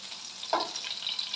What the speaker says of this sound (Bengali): এবার প্রথমে রসুন কুচিটা দিয়ে দিলাম, অল্প একটু সাদা তেল দিয়েছি।